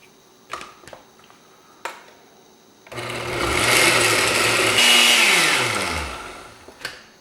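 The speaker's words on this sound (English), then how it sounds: "But this is only a 7-cup blender, so I have to do it just like this." After a few small clicks, a 7-cup blender blending chile relleno sauce whirs loudly for about four seconds, its motor pitch shifting as it runs, then winds down to quiet.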